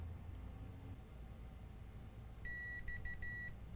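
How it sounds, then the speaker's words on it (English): A multimeter in continuity mode beeps as filter components on an iPhone 7 Plus board are tested, giving a few short faint high beeps in quick succession over low background hum. "Put the meter in continuity mode."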